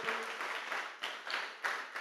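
Clapping in praise to the Lord from a church congregation, faint and somewhat distant, coming in several short waves over a couple of seconds.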